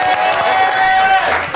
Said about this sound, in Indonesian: Tepuk tangan dong, tepuk tangan buat di sana.